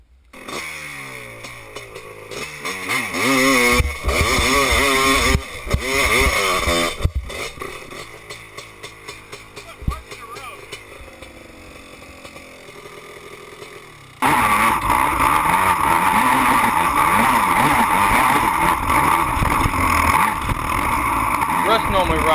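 Honda 250R three-wheeler with a 10-over engine on a Florida hill climb, its two-stroke note revving loud and ragged, dropping away, then returning as a sustained near, steady howl; voices talk over it.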